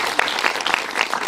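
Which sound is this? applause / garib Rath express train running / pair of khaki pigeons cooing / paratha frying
applause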